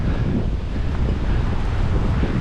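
Ocean waves surging and crashing against coastal rocks at a rocky fishing spot, a loud, continuous roaring wash with heavy wind buffeting the microphone, no voices.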